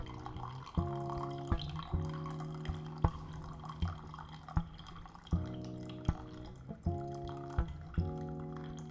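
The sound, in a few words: water poured into Aeropress coffee to dilute it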